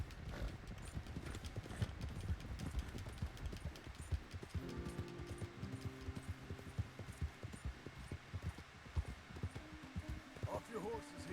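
Steady clip-clop of horse hooves at a walking pace in Red Dead Redemption 2, with a brief whinny and faint game ambience underneath, moderately close.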